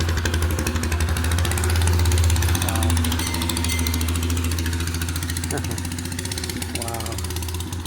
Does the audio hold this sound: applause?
no